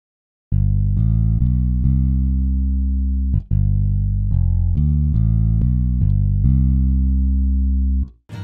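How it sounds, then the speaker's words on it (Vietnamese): A deep chân bát bass voice on a two-tier Electone organ plays a slow line of sustained low notes, full and steady with small gaps between some notes, close and alone. "Đây là tiếng của chân bát."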